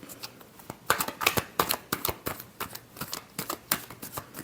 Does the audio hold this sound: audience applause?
no